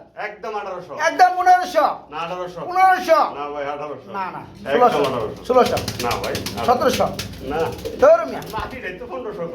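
A red running pair of Lahori pigeons coos softly in the background while someone talks continuously over them.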